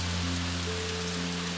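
Steady rainfall patters on a surface in an even, continuous hiss, with a low droning hum running underneath and no voices present.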